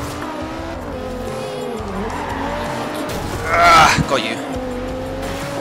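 Tires squeal briefly as a car power slides in Forza Horizon 2, a short screech rising over steady engine drone and racing noise, with a voice talking over the game.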